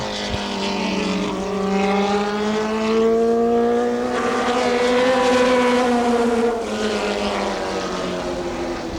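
A USAC midget race car engine on a qualifying lap at I-70 Speedway, a loud, steady high-pitched drone that rises and falls in pitch as the car works around the track, continuous throughout with no speech.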